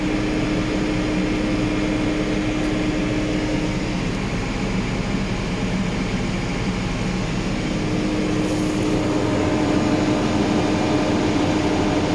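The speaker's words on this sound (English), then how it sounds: "put the revs up a bit" A lorry engine running during a jump-start of a small tractor, a steady droning hum with a low rumble that holds close and continuous without talk.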